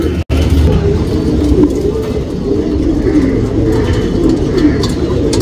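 Pigeons in a loft coo softly and repeatedly over a steady background hum, a breeding pair among the birds, with occasional faint traffic noise; a brief sharp click sounds near the start.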